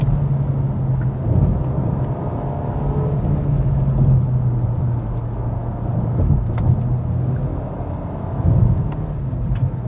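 A 2020 Hyundai Veloster engine drones steadily with a low, continuous hum and road rumble, holding a constant pitch under load for the whole stretch.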